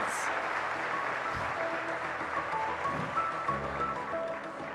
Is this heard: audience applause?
yes